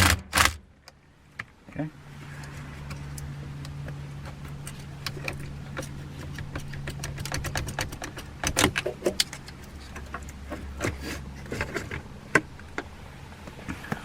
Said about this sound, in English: there's another 10mm bolt or nut right here. Go ahead and loosen that.